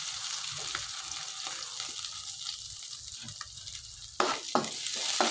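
Ginger, garlic and green chillies sizzle steadily in hot oil for a Kannada-style vada pav snack, with a few stirring scrapes and a louder burst of frying near the end, no voices.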